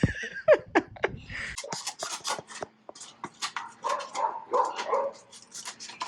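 Several dogs bark and yip in quick, irregular bursts, close by, with some whimpering mixed in.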